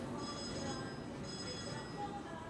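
Faint steady electronic ringing of a toy train crossing gate alarm on a kid's train control box at a public show, a continuous tone held throughout at low level.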